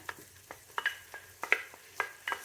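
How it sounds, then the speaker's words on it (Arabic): Carrots, leek and onion frying in a pan, with a quiet sizzle broken by soft scraping stirs roughly every half second, close and fairly faint. "صافي من بعد ما تقلى لينا الجزر مع البورو والبصله، غادي نضيف شامبينيون نوار"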